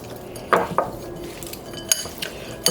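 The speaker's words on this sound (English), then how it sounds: "I'll give that a good mix." Utensil scraping and clanking in a pan or bowl while food is tossed with Cajun spice seasoning: a few sharp metallic knocks among soft stirring rustles, close and moderately loud, no voices.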